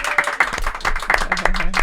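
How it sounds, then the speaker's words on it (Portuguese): Brief studio applause greeting a São Paulo mayoral candidate as an interview guest, a few seconds of quick handclaps from a small group mixed with a voice. "Uma salva de palmas para a nossa convidada de hoje"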